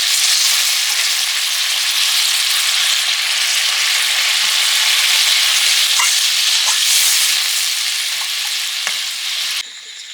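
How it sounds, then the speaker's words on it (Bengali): Fish curry broth boiling hard in a pan, a loud, constant bubbling hiss that holds steady close up with no talking, then drops slightly at the very end. "ঝোল ফুটে গেছে এবার মাছগুলো দিয়ে দেবো"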